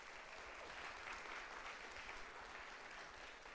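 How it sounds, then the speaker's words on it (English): Audience applause for Cody at a 1 Million Cups Fargo startup event, a steady dense clapping that runs unbroken through the whole stretch at moderate distance. "Let's give Cody a round of applause."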